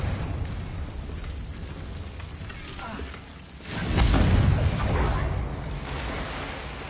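A Confringo blasting spell goes off in Hogwarts Legacy as a low, rumbling blast that swells midway and slowly fades over steady background game noise and a voice.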